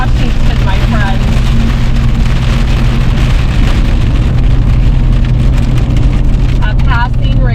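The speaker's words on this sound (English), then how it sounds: "A passing rain shower." A passing springtime rain shower in Washington falls steadily and loudly outdoors, a dense continuous patter with a low rumble underneath and brief faint chirps from birds.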